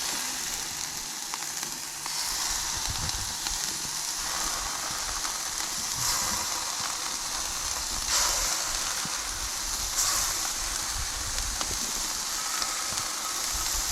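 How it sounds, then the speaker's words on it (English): Smashed burgers sizzle on a smoking-hot Blackstone griddle at a campsite, a steady, dense frying hiss that carries through the whole stretch, with no talking. "You can hear that sizzle."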